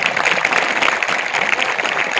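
A crowd claps at a village Shiv Jayanti celebration, a dense, continuous burst of applause that stays even and loud throughout with no voices on top.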